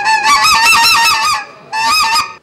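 A wind-blown duck call lure imitates duck quacking in loud, nasal, buzzy honks: a long rapid series of calls, a brief pause, then a shorter burst, close and with no talk.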